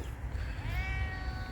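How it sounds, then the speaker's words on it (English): A cat in an urban backyard garden gives a drawn-out, rising-and-falling meow close by, heard over steady outdoor background noise without speech. "Oh, here's my cat."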